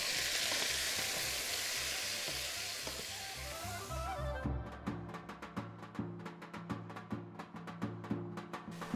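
Meat browning in a hot pan, a dense loud sizzle for the first few seconds that gives way to sharp, rapid crackling pops, close and with no voices.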